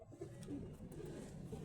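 Pigeons released from their coops onto a rooftop coo softly, a faint low murmur with a couple of brief calls in a quiet setting.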